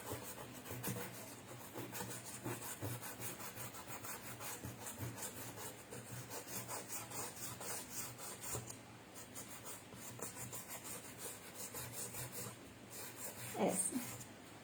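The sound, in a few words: sanding with folded sandpaper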